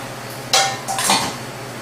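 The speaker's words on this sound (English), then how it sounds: "Whisk that together" Whisking a Belgian chocolate mixture in a bowl in an inn kitchen, two short metallic scraping bursts of the whisk against the bowl, close and fairly loud, with no talking.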